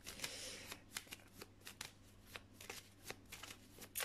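Tarot cards shuffled by hand for a love reading, a busy run of close riffling and slapping card sounds with irregular quick bursts, alone without talk.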